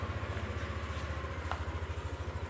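Yamaha NMAX scooter engine idling steadily after starting, a low, even putter with a regular pulse throughout, close by and fairly loud, with no talk over it.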